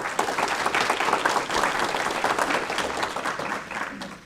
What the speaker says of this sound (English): Please give Miss Whitley a round of applause.